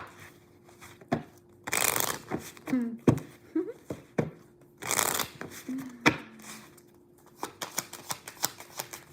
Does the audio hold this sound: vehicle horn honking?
no